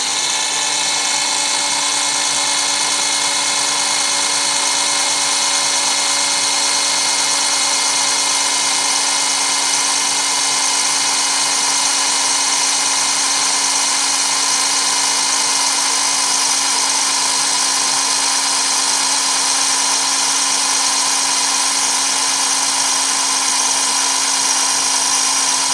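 Dremel rotary tool drilling a hole in a metal spoon handle, a continuous high-pitched whine held steady and close for the whole stretch with no pauses and no talking.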